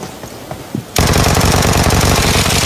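Rapid automatic gunfire in the battle royale game Peacekeeper Elite erupts after a second of quiet, a loud, sustained burst of dense shots continuing to the end.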